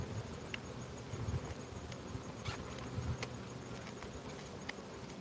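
Honey bees buzz faintly and continuously around a beekeeper pulling honey outdoors, a soft drone with occasional closer passes and light rustling, no talking.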